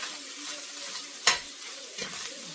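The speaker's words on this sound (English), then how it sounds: "I'm just going to stir this all in here" Paprika and seasoning being stirred into chili in a pot, soft scraping and sizzling close by, with one sharp clink of the utensil against the pot and a lighter knock later.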